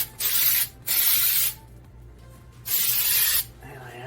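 Rubberized undercoating sprayed from an aerosol onto the underside of a Suzuki Samurai during a rust-treatment restoration: three steady hissing bursts, each under a second long, separated by short pauses, close and fairly loud.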